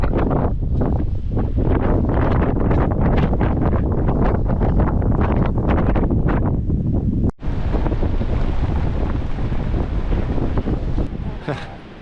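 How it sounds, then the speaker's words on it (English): Strong prairie wind buffets the microphone in a loud, continuous roar with gusty surges, broken by a brief dropout partway through before the heavy rumble resumes and eases slightly at the end. "Just a little windy."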